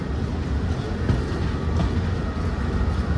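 A passenger train rolls along the tracks with a continuous low rumble, wagon rattle and faint wheel clatter, heard from inside the carriage at a steady level.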